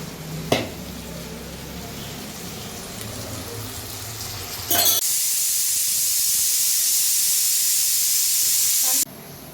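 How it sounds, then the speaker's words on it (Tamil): A pressure cooker on a home kitchen stove vents steam in a loud, steady hiss that starts abruptly after a brief sizzle and runs for several seconds before cutting off sharply. "குக்கர் 2 விசில் வந்துச்சு."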